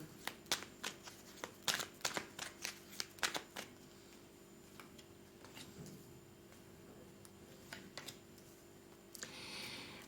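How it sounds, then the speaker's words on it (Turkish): Tarot cards being shuffled and drawn from a deck, a quick run of crisp riffling flicks and snaps close by during the first few seconds, then sparse soft card taps over a faint room hum. "Hemen romantik melekler destenizden de kart alalım."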